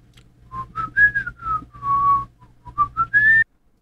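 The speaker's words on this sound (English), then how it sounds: "Pretty much it's just me whistling," One person whistles a short tune of clear, pure notes, a few gliding up and down, alone in a quiet space for about three seconds before stopping abruptly.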